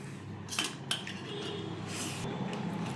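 Cutlery clinks against a plate as chicken is served, with a few sharp metallic taps standing out over a steady low room hum and no talking.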